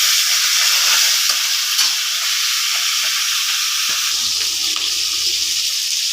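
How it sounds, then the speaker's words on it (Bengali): Fish heads frying in a pan give a steady, loud hiss and sizzle with faint scrapes and pops throughout, and no voices over it. "তো প্রথমে আমি মাছের মাথাটাকে ভেজে নেব।"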